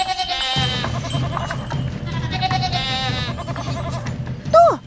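A lamb in an Indonesian children's cartoon bleats once, a short rising-then-falling cry near the end, over a steady layer of music and busy background sound.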